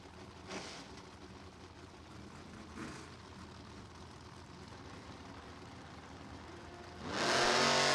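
Jeff Gongi's supercharged big block Chevrolet 1965 Nova drag car hums at a distance through most of the stretch, then a loud, close engine roar surges in near the end of its run.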